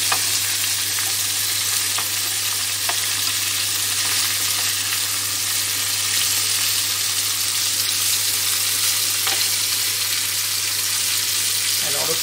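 Fish with fennel browns in a pan, a steady, even sizzle running the whole time with a constant low hum beneath and a few faint clicks, with no clear talking.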